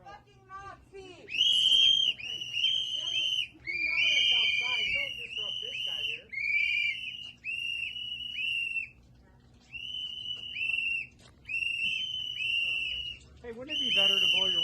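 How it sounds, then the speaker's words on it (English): Shrill whistles are blown by protesters confronting ICE agents, repeated long and short blasts, loud and close, with voices shouting between and beneath them. "wouldn't it be better to blow your whistles outside"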